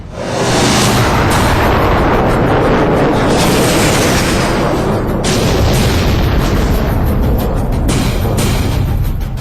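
Missiles and bombs exploding in a military strike, a dense, continuous roar of loud overlapping blasts and rumbling booms with no clear gaps, close and overwhelming throughout.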